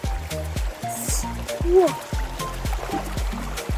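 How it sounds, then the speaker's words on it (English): Fast water rushes through Elora Gorge as a steady broadband wash, close by and moderately loud, running beneath people talking and exclaiming throughout. "the water is going so fast"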